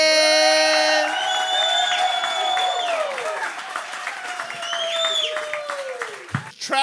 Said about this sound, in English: Please give a rousing applause to Mr. Alonzo Bodden.